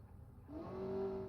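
A Swedish-Japanese supercar driving in the Automation car game on Italian roads, its engine rising into a steady, sustained tone as it accelerates, fairly quiet and with no talking.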